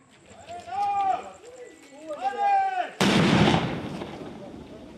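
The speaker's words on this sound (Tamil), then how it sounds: "உடனடியாக குறித்த இடத்திலேயே கைக்குண்டு வெடிக்க வைக்கப்பட்டது" After a couple of seconds of speech, a found hand grenade is detonated on the spot in Kattankudy, Sri Lanka: a sudden loud blast erupts and rolls out into a decaying rumble.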